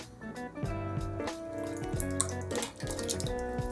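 Water pours into a pot of lentil soup in a home kitchen, a steady splashing and gurgling stream with some dripping, close and alone, with no talk.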